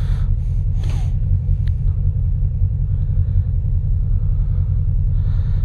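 A Honda VFR800 motorcycle with a snorkel intake mod pulls away, its engine giving a deep, steady, loud rumble throughout with no one speaking.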